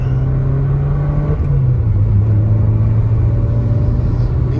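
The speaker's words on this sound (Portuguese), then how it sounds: "Vai dar uma acelerada agora que é disso que o povo gosta." A Volkswagen Golf engine holds a loud, close, steady rumbling rev, then drops to a slightly lower pitch partway through and keeps droning, with no talking.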